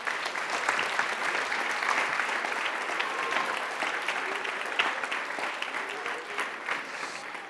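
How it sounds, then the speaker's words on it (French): An audience applauds children at a children's parliament event, dense clapping from a crowd that swells early, holds steady, then gradually thins toward the end. "on peut les applaudir très fort."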